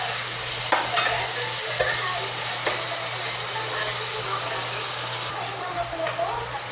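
Sautéed aromatics for Filipino mung bean stew being stirred in a sizzling pan, a continuous close frying hiss with scraping strokes of the spoon and a faint background hum.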